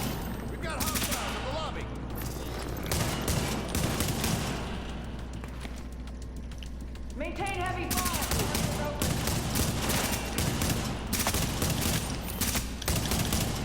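Rapid bursts of enemy AI blind fire from behind cover in The Division at the Russian consulate, dense overlapping gunshots running nearly the whole time with a voice speaking over the battle.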